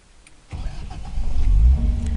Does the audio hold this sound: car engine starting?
yes